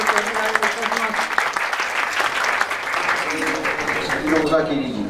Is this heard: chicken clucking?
no